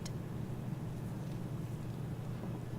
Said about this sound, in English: these bloody engines are driving me mad.